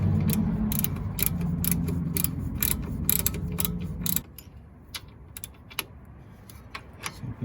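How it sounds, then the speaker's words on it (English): A hand ratchet tightens a front wheel hub assembly bolt on a Ford Explorer 4.0L, a dense run of quick close clicks for about four seconds, then sparse scattered ticks and clinks. "go ahead and tighten it with your ratchet"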